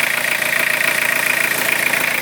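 A Toyota 4Runner engine idles close by with a loud, steady mechanical hum and a fast, even pulsing throb, holding constant with no voices.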